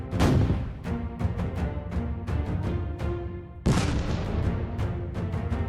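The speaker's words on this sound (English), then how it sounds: "A Russian BTR packed with infantry heads toward Ukrainian lines when a Bradley opens fire." Bradley fighting vehicle opening fire on a Russian BTR troop carrier: a rapid series of sharp, loud autocannon reports in quick rhythm, with a heavier blast about two-thirds through, all close and prominent with no talk.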